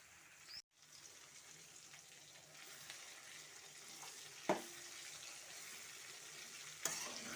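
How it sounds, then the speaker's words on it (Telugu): Broad beans and onions frying in oil in a home kitchen pan, a steady close sizzle with occasional stirring scrapes and a couple of sharper clinks, with no voices. "ఈ ఆయిల్లో ఇవి ఫ్రై అయితే ఇక మొత్తం చిక్కుడుకాయ అంతా ఫ్రై అయ్యే టయానికి ఇవి ఆనియన్స్ కూడా మంచిగా ఫ్రై అవుతాయి"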